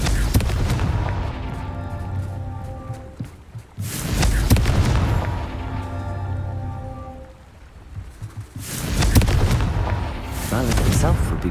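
In the Hogwarts Legacy video game, the Confringo spell sets off loud fiery explosions, with two heavy booming blasts followed by rumbling, crackling debris against a busy game backdrop.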